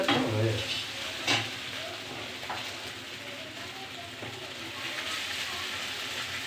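Chow mein being stir-fried with a spatula gives a soft continuous sizzle, with a few scraping strokes early on, moderately faint with a home kitchen around it.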